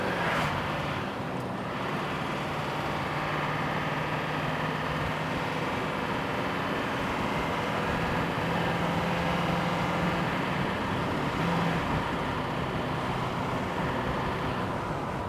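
A Chevy school bus diesel engine with a transmission that won't upshift idles and surges, revving up on its own with no throttle input, a steady broadband drone throughout with no talking.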